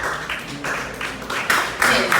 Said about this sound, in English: Please let's applaud Maame Dokono once again.